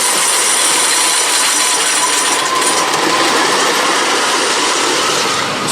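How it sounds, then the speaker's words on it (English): The Racer wooden roller coaster train at Kings Island rumbles past in a steady, loud roar of wheels on track that fills the whole stretch without letup. "as the train comes back around"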